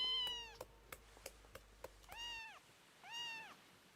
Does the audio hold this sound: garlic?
no